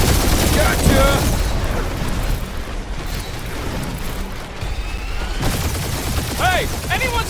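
Rapid gunfire and booming explosions fill a shootout in Marvel's Guardians of the Galaxy, loud and sustained, with voices shouting over the battle.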